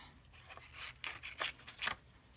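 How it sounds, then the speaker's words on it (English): Scissors snip through a piece of embroidery fabric in a few quick, close crisp cuts with soft rubbing between them, nobody talking. "I think I will cut that out. I'm just going to cut this off."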